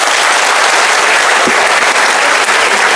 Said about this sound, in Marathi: टाळ्या एकदा जोरदार होत्या